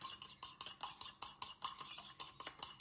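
A spoon scrapes and clinks against a glass while bird hand-feed mixture is stirred into water. The taps come in quick irregular bursts, close and fairly soft, with no one talking.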